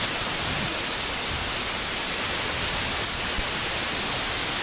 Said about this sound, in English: So I'm adding white noise, which is always fun to hear.